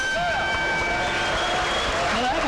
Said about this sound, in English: And the crowd shows its appreciation